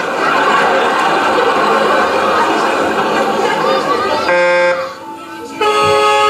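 A loud, sustained car horn blares for several seconds over busy chatter, cuts out briefly, then sounds again.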